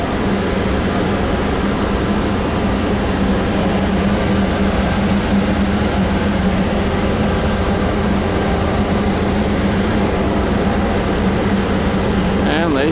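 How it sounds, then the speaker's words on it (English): Amtrak Southwest Chief passenger train number 4 standing at a station, a loud continuous engine drone and hum filling the scene, with people talking over it. "This is Southwest Chief number 4. This is the one going to Chicago, and this is not my train."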